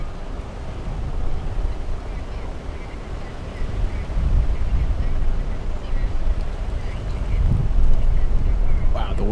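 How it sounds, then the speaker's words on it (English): Strong wind blows across an open spot at Miami International Airport, roaring as broadband rumble and buffeting the microphone, with gusts that build toward the end. "the wind is definitely picking up right now. A lot of wind."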